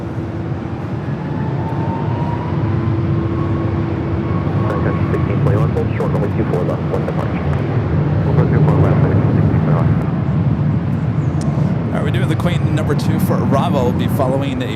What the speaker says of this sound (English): Sun Country 737-800 coming in from Minneapolis.